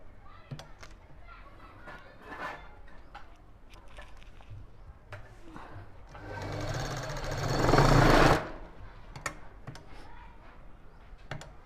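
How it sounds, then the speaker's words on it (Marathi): An electric sewing machine stitches a fabric latkan tassel in one loud whirring run of about two seconds midway, amid scattered handling clicks and rustles of cloth. "बघा इथे मी याला शिलाई देऊन घेतलेली आहे"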